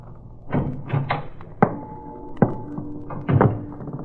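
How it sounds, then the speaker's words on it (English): Hollow metallic thunks and bangs against a steel drum in an old-time radio drama, several uneven hits spaced over a few seconds, with a ringing tone lingering after some strikes, close and moderately loud. "I banged against the steel drum, and the noise it made shattered the silence."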